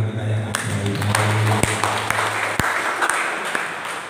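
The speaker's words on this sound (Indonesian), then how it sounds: "Tepuk tangan buat Tuhan kita yang ajaib." A church congregation claps during a sermon, with a brief burst of applause under ongoing talk and scattered sharp individual claps standing out.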